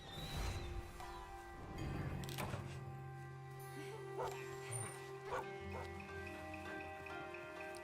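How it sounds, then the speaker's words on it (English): A dog barks repeatedly in the video game Monster Hunter Rise, quick yips and barks scattered over a continuous layer of game music and ambient effects, fairly faint overall. "So much bark."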